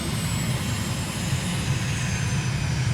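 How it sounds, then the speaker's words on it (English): An aircraft engine in Microsoft Flight Simulator drones steadily as the plane taxis toward runway 27 in freezing conditions, with a constant low rumble, a faint high whine on top and no speech. "Let's taxi out onto runway 27."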